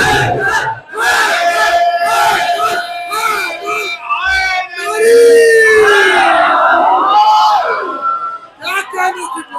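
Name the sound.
crowd chanting a slogan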